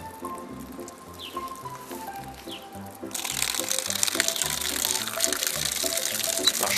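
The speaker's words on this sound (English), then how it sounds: "And a pot of hot tea." Hot tea poured from a pot over a laptop: a thin trickle at first, then a heavier, louder splashing stream that patters on the surface close up and keeps going to the end.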